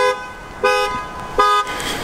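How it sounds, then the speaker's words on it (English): A car horn honks three times in short, evenly spaced toots, loud and close, over a quiet background. "You got your alarm button here for the horn."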